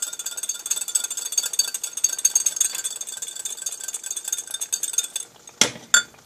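A whisk beating chocolate ganache in a bowl, fast and steady metallic scraping and tapping, close and loud, ending with a couple of sharp knocks against the rim.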